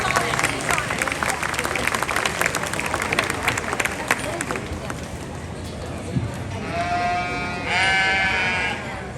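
Lambs bleat in a fair show ring during a peewee lamb showmanship class, several loud wavering calls near the end over steady crowd murmur and a voice talking on a loudspeaker.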